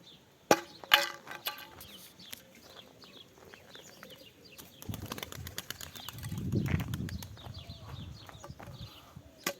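Young pigeons taking off and flapping their wings in flight, with a burst of sharp wing claps early on and a softer fluttering rush later, fairly close, with faint bird sounds and no talk.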